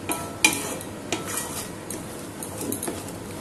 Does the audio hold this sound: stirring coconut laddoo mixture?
yes